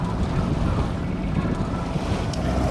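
A sailboat motoring under engine on the Gulf near the intracoastal channel to Gulfport, a loud steady engine drone blended with heavy wind rush across the microphone and water noise, continuous throughout.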